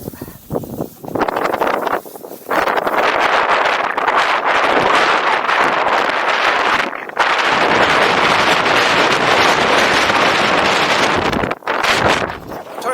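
Heavy wind buffets a camera mic while riding a Kingsong S22 electric unicycle, a loud rough roar that fills nearly the whole stretch, dropping out briefly a few times.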